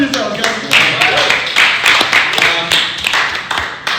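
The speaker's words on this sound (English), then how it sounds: "clap for yourselves, guys" A podcast's live audience claps in a dense, steady burst of many hands, with louder peaks and brief whoops riding over the applause throughout.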